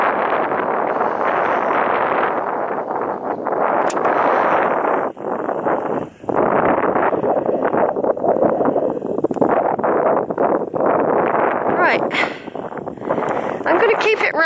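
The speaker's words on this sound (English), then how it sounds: "even though it's windy" Strong wind buffets the microphone on a hilltop in the Blackdown Hills, a loud continuous roar and rumble that surges and dips across the whole stretch.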